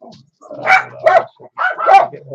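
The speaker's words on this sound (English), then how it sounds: "the dogs are getting, they think I'm getting off the air, so they start barking" Several dogs barking in short bursts near a ham radio operator's station, the barks coming in clustered volleys with brief pauses between.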